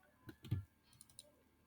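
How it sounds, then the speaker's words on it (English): Keys pressed on a computer keyboard while working in Microsoft Word, a few quiet clicks close up, the last ones light and brief, with no talk. "I need to hold the control key on my keyboard"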